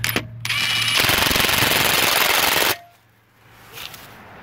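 A Ridgid Octane 1/2-inch impact wrench, set to about 110 foot-pounds, hammers a fastener tight in one loud, continuous rattling burst of roughly two seconds after a brief start, then stops into near silence.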